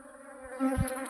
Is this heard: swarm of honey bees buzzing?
yes